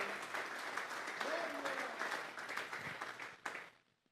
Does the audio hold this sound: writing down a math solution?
no